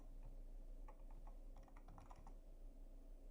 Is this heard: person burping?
no